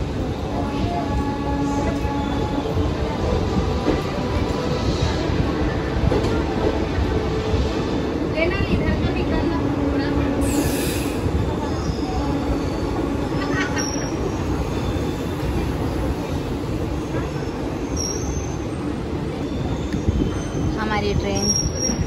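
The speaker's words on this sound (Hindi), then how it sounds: "आप देख सक रहे हो हमारा ट्रेन छूट चुका है, अपने रास्ते चल रही है।" Passenger train rolling along just after leaving Raipur, a steady loud rumble of wheels and carriages with occasional squeals, heard from inside throughout, with faint voices in the background.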